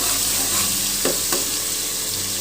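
Tomatoes frying in hot oil for veg biryani, a steady broadband sizzle throughout with two brief stirring scrapes near the middle; no talking.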